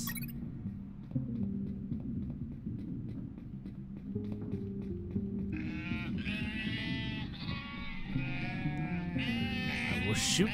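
Sheep in the game UnMetal bleat several times in a cluster over steady synthesized game music and sound effects, the calls growing denser toward the end.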